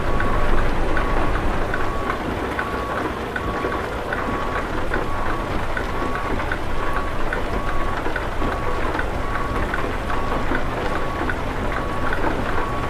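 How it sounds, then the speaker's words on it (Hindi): Heavy rain falls in the trucking game Euro Truck Simulator 2, driving a Mack Anthem 70 Sleeper 505 hp truck hauling a container, giving a constant dense patter and hiss over a low rumbling background, steady throughout. "हाँ तो बारिश भी बहुत हो रही है।"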